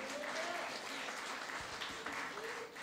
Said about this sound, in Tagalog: Palapakan mo si Lord.